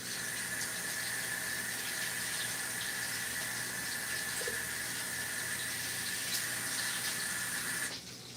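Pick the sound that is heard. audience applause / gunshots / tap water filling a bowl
tap water filling a bowl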